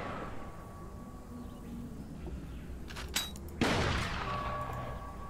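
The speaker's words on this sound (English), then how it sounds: "Sniper fires too slowly." A sniper rifle in a video game fires two sharp shots a moment apart, the second louder and ringing out over a steady background hum.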